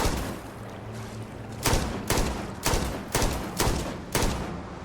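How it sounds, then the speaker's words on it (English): Bullets striking a water surface in the video game Fallout 4, giving a background of steady noisy ambience with about six sharp, evenly spaced splash bursts roughly half a second apart, moderately loud with no talk. "when you shoot the surface of the water, the splash effect is quite a bit larger than what we see in Starfield"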